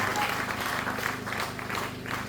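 A church congregation applauds, a brief, dense patter of clapping hands that swells and dips, with voices mixed in underneath.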